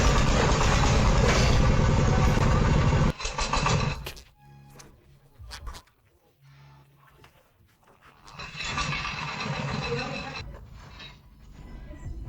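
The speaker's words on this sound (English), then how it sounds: "The homemade tractor bucked like a wild horse the second it started." A homemade tractor's engine starts with a loud, rough roar, then cuts away into a brief lull of scattered knocks and thuds before the engine noise swells again, close and harsh throughout.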